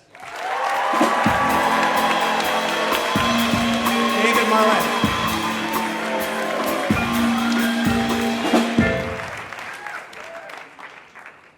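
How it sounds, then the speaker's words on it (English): Sustained audience applause and some cheering greet a storyteller at a live storytelling grand slam, with a brief spoken introduction at the start. A rhythmic low mechanical thumping runs beneath it before everything fades away. "a big round of applause for David Marlett"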